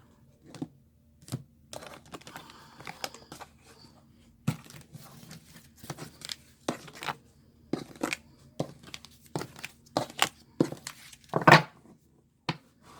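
Tarot cards being cut and handled during a reading: a run of sharp, separate card taps and soft riffling clicks, close and fairly quiet, with brief crinkly shuffles between them and no talk.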